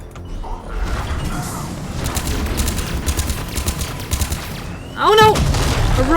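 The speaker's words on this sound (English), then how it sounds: "A rocket to my face." Rocket blast hitting the player in Mass Effect 3, a dense barrage of gunfire and explosive rumble that continues for several seconds and swells louder near the end, with a voice breaking in over it.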